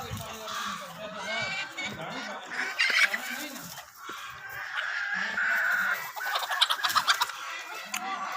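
Desi golden misri chickens clucking and calling at home, with rooster-like crowing bursts, close and fairly loud, while people talk in the background.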